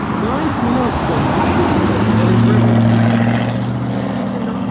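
A Mustang engine revs with a deep, rising growl on a street while carspotting in Sarasota, Florida, loud and sustained under someone talking over it.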